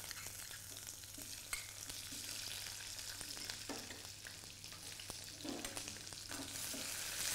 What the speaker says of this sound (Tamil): லேசாக வதக்கணும் இந்த வெங்காயத்தை அப்படியே எண்ணெயில்